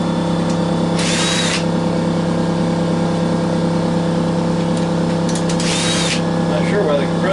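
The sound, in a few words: air compressor motor kicking in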